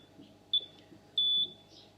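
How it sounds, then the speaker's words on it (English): A heated hair roller pod gives two clear electronic beeps, a short one then a longer sustained tone, close and fairly loud over a quiet background. "put the roller in the pod, hear the beep, see the green lights flashing"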